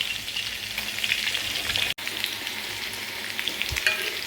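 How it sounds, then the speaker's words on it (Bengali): Potatoes fry in a hot pan with a steady, close sizzle and occasional scraping stirs, no voices over the crackle. "আর এই আলুগুলো ভেজে নিচ্ছি"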